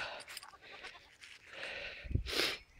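A goat bleats loudly and close by near the end, a short harsh cry following quieter rustling and faint background voices around a group of goats being led on a rope.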